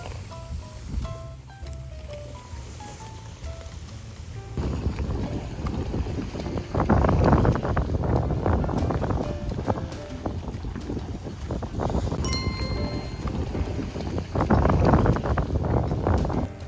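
A ferry pulling away from Bijindo island near Tongyeong, its engine rumble mixed with rushing water and gusty wind buffeting the microphone, growing louder partway through and holding steady.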